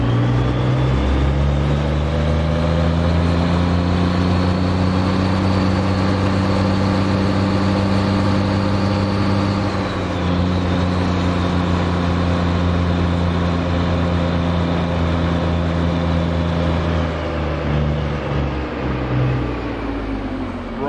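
Heavy truck engine in American Truck Simulator heard from outside, a loud continuous low rumble that holds steady, with a brief pitch dip midway and a slight shift near the end, no talk over it.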